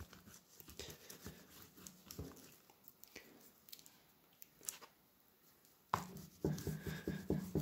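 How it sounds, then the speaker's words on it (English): A pencil scratches and scribbles into an oil bar layer on paper during mixed-media drawing, quiet irregular strokes that turn louder and more rapid near the end. "And I will draw into that oil bar with the pencil."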